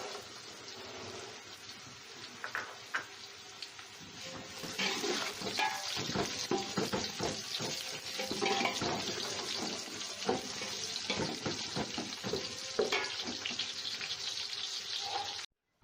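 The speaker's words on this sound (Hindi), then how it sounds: "प्याज हमारा ब्राउन हो चुका है। अब हम इसमें लहसुन अदरक डालेंगे।" Browned onions sizzling in a pan as garlic and ginger go in while making chicken haleem at home; steady frying hiss with scraping stirs and clinks of a spoon, moderately close, no talk.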